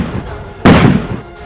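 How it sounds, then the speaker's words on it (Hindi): A tear gas shell fired by police at a farmers' protest near Noida and Delhi gives a single loud, sharp bang that rises abruptly out of steady crowd and street noise. "पुलिस की तरफ से छोड़े गए आंसू गैस के गोलों की वजह से वहां तेज धमाके जैसी आवाजें सुनाई दी।"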